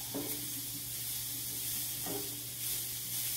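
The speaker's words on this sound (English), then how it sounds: "Keep stirring so your onions don't burn." Onions and tomatoes sizzle steadily in a pan while being stirred, a soft continuous frying hiss with a couple of faint scraping strokes, fairly quiet and without talk.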